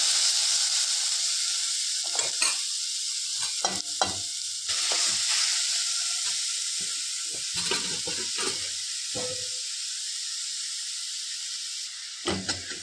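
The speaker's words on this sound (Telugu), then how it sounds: "నెయ్యి కరిగిందండి. ఇప్పుడు ఇందులో క్యారెట్ వేసుకోవాలి." Carrots for carrot halwa fry in melted ghee in a hot pan, a continuous close sizzle with intermittent scraping stirs and clatter; nobody speaks.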